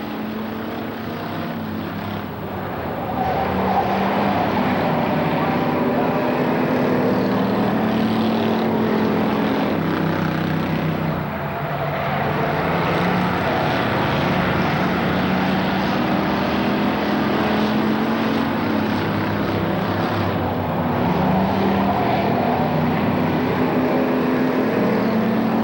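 Race cars circling the oval track at Shadybowl Speedway in 1992, a continuous layered engine drone from several cars that swells and fades slightly as they pass, heard from a distance.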